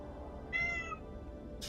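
A pet cat lets out one clear, drawn-out meow, soft and close, over a constant low electronic hum, with a brief hiss near the end.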